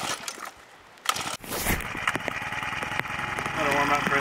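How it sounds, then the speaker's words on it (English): Garden tiller engine pulled to start, then catching and running with a steady, busy rattle that grows louder toward the end, heard under a person talking, in a wet spring garden in the Alpine mountains. "so we got our tiller. We just gotta fill it with some gas."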